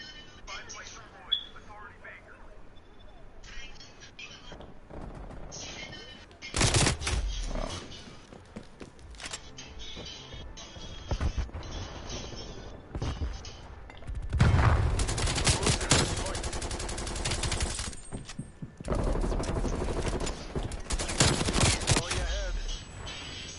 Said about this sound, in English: I think you don't want to keep spraying with this gun